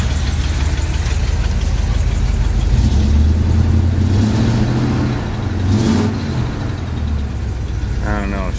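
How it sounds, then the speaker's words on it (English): A Chevy squarebody truck engine with a collapsed muffler revs and runs steadily up close, a loud continuous rumble with rising and falling pitch and a voice talking over it. "I think it's got a muffler collapse inside there. The way that sounds though."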